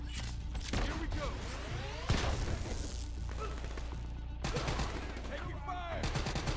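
Intense automatic weapon fire in a Call of Duty: Black Ops 3 campaign mission, loud rapid bursts with crashes and impacts running almost nonstop, with a voice talking over it.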